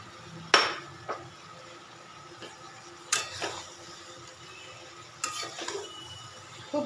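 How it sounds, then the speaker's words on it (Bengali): Fried potatoes and pointed gourd tipped into a pan of spiced masala give a few sharp, spaced clanks and clatters of utensil on metal, with quiet gaps between them and no talking. "এবার আমি ভেজে রাখা আলু পটলগুলো এর মধ্যে দিয়ে দেবো।"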